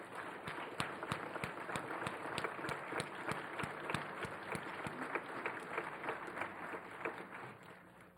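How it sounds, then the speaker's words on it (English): A literary awards audience applauds the finalists, rapid clapping from a roomful of people, with distinct individual claps standing out near the front, sustained and fairly faint overall. "please stand so we can applaud you"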